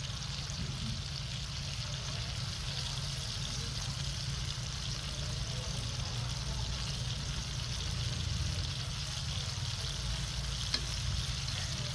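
Fish fries in hot oil with a steady, dense sizzle and crackle, close and continuous, with a faint tap or clink near the end.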